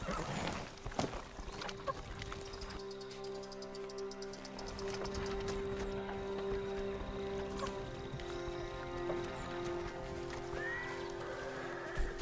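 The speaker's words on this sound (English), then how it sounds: "Follow those horses." Horses in the Ghost of Tsushima video game: hooves clip-clop and a horse neighs, over a sustained musical drone and scattered game effects, at moderate level with no speech.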